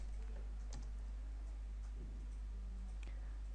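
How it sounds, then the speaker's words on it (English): Commands are typed on a computer keyboard to start an Apache web server, light scattered key clicks at an uneven pace over a constant low hum, quiet and close, no voices. "So let us type out some of the commands like service apache to start so that I can start my web server."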